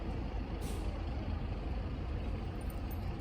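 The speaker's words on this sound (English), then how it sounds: "the bus is leaving without us" Bus pulling away on a rural road in the North Carolina woods, a broad, steady engine rumble with hissing noise filling the clip, fairly close, no voices.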